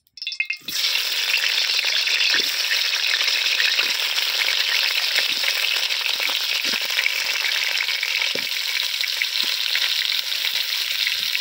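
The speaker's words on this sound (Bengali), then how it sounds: "আলুটাকে খুব ভালো করে লাল লাল করে ভেজে নেব" Potato pieces fry in hot mustard oil in a karahi, a loud, dense, unbroken sizzle that starts abruptly and holds steady at close range, with no voices.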